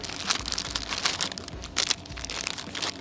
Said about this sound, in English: So we're gonna cut the packaging open.